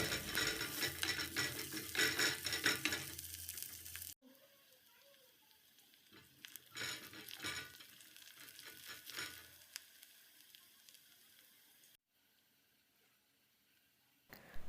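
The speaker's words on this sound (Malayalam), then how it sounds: "വെളിച്ചെണ്ണ ചൂടായാൽ അതിലേക്ക് അരിഞ്ഞു വെച്ചിട്ടുള്ള ചെറിയ ഉള്ളി ചേർത്ത് കൊടുക്കാം." Chopped small shallots fry in hot coconut oil for a homestyle mutton curry. A loud, close, crackling sizzle fills the first few seconds, then settles into a softer, steady frying hiss with occasional stirring.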